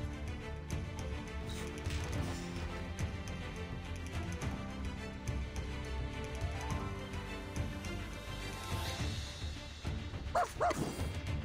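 A puppy barks in the video game Reverse: 1999, a few yips and woofs heard faintly under a busy, continuous music track, with a brief clearer bark near the end.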